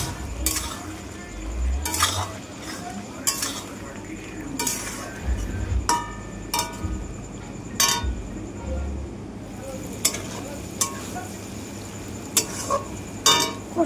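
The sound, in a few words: stirring curry while cooking chanda fish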